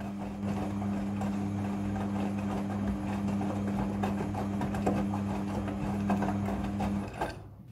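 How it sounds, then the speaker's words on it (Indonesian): A Midea front-loading washing machine runs with a steady mechanical hum and a constant low tone, overlaid with clicking and light knocking from the drum, fairly quiet, before stopping abruptly near the end. "Mesin cuci front loading sudah full automatic dalam mencuci."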